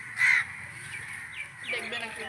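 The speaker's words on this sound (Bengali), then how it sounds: "আর সামনে দেখো পাখিগুলো বসে আছে" A crow gives one loud, nearby caw from a rooftop scene, followed by quieter bird calls and faint background sound, with a voice talking softly.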